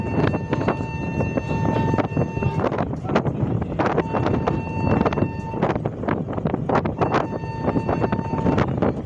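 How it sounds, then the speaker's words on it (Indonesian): Strong wind blows across a ship deck on a sea passage from Surabaya to Jakarta, making constant loud buffeting and roaring against the microphone with sharp gusty bursts throughout. "Anginnya kencang."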